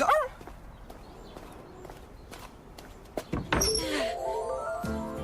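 In a French animated cartoon a neighbour's dog is taken for a walk: brief barking-like yelps with soft footstep patter, then a louder burst of cartoon voices and effects near the end.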